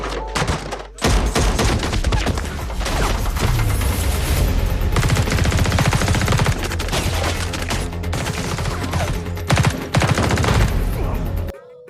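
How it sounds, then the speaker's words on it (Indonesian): Movie gunfight in a darkened setting, dense sustained bursts of rapid gunfire and heavy thuds, loud and continuous for most of the span after a brief opening shot and pause. "Terjadilah adu tembak di antara mereka."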